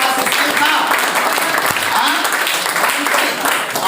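Audience applause at a mindset training session, a steady dense wash of clapping filling the room throughout, with voices faintly mixed in beneath it.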